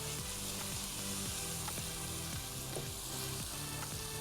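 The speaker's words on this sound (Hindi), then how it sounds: "फ्राई किए हुए अनियन को पीस लिया था वो मैं इसमें ऐड कर रहा हूँ। और इसको हम भूनते जाएंगे।" Ground paste of fried onions sautéing in a pan for a thawbat penda dish: a continuous frying sizzle with repeated scraping strokes of a spoon at a steady rhythm, moderately quiet and close.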